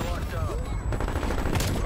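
Krig 6 rifle firing in Black Ops Cold War, rapid automatic bursts cracking close and loud with a brief pause midway, while a voice talks underneath.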